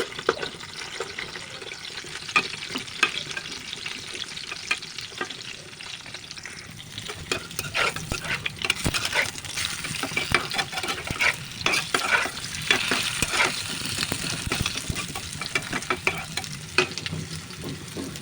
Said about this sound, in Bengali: ভাজা হয়ে গেছে, এবার আমি তুলে নিচ্ছি সবগুলো।